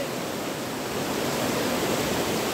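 A large river rushes past while someone walks barefoot along it, a steady loud broadband roar of flowing water close by, continuous and without talk.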